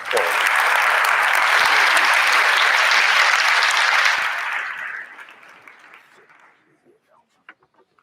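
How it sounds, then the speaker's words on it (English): A large audience at a high school senior academic awards ceremony gives a loud, sustained round of applause that fills the first four seconds, then thins out to scattered claps and fades into near silence. "let's give him a round of applause"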